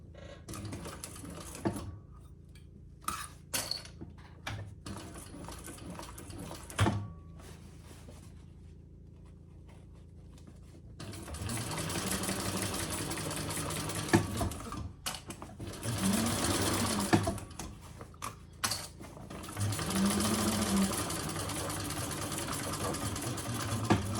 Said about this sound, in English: All right, let's top stitch this.